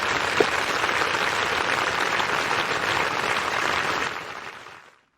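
An audience at a yoga event applauds to welcome the instructor, a full, even wash of clapping that holds steady before tapering off and stopping near the end.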